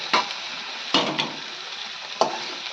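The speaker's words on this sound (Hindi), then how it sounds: "अब ये आलू डाली भिंडी थोड़ा भून गई थी" Potato and okra stir-fried in a pan, three sharp scraping stirs of the spatula over a soft continuous sizzle, close and moderately quiet.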